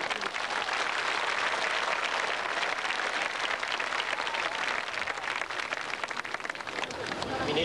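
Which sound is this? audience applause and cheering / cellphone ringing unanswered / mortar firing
audience applause and cheering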